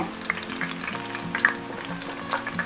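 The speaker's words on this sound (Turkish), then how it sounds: "içli köftelerim için kızartma işlemine devam edeceğim" Steady, crackling sizzle of stuffed meatballs (içli köfte) deep frying in hot oil, with sharp pops and spits over a continuous bubbling hiss.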